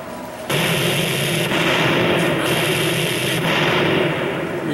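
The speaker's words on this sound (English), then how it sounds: "Where is that shooting coming from?" Gunfire during a gang war in Grand Theft Auto San Andreas: after a brief quiet start, a dense, continuous roar of shooting fills the scene, loud and sustained with small shifts in texture.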